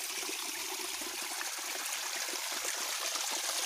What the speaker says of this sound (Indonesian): Ini airnya jernih teman, biarpun kecil ini selalu mengalir terus ya